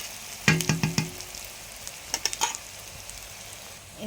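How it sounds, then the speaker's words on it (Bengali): Oil sizzles and crackles in a pan with bursts of stirring clatter, moderately close, with no voices. "পেঁয়াজটা ভাজা হয়ে গেছে।"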